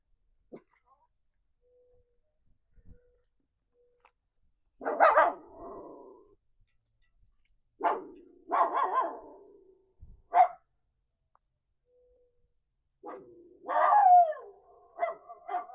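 A dog barks outside in a garden, in several short bursts of one to three barks with quiet pauses between them, fairly close and alone.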